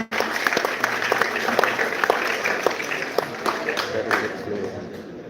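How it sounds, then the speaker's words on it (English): Seminar audience applauds Praveen, a steady round of clapping from a room of people with individual claps standing out, fading slightly toward the end. "Give a good round of applause to Praveen"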